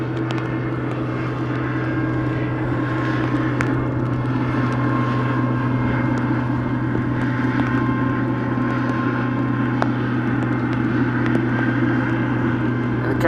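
A tow truck passes at Amsterdam Schiphol Airport, a steady low engine drone holding evenly throughout under broad rumbling airport noise.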